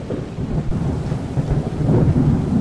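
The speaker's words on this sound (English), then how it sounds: "But so is the thunder." Thunder in the video game The Flood, a low rolling rumble that builds and swells over a couple of seconds, with a soft rain-like hiss underneath and no talking.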